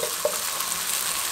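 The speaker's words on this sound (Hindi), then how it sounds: "40 सेकंड तक मीडियम फ्लेम पे अच्छे तरीके से पेस्ट के साथ भुनाई करेंगे" A ground paste frying over a medium flame gives a brief, steady sizzling hiss heard up close, with one small tap of a spoon near the start.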